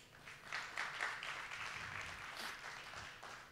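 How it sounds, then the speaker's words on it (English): Audience applause after a football association speech, a soft, fairly distant patter of clapping that swells briefly and holds steady for a few seconds. "And then I ask a round of applause."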